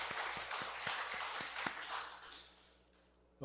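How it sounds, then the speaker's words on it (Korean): Applause at a Sunday church service, scattered rhythmic clapping from the congregation that is faint and distant, fading out over a few seconds. "우리 박수 한번 더 치십시다"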